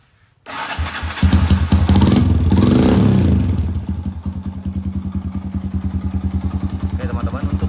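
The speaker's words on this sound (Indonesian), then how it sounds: "Oke teman-teman, untuk suara mesinnya cukup halus ya." A Kawasaki KLX motorcycle with adjusted valves fires up, then revs loudly for a couple of seconds before settling into a steady, close, rhythmic idle.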